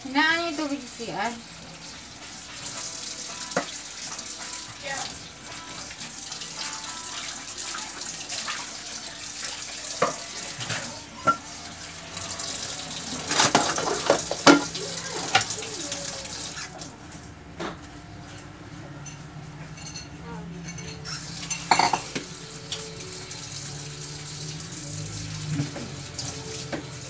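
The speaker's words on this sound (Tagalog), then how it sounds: "Hinaan niyo yung tubig sa CR." A tap in a bathroom runs water in a steady, continuous stream, with occasional clinks and knocks and people talking intermittently nearby.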